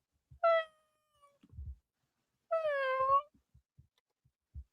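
A man imitates a cat's meow twice, the second longer and more drawn out, with soft background noises between them in a quiet room.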